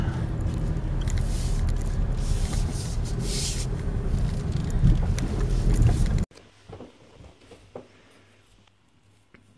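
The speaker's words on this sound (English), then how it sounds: "now this car's going the other way" A car passes along a rural road in Cornwall, a loud broadband whoosh of tyres and engine that holds for several seconds, then cuts off sharply to quiet background with faint scattered sounds.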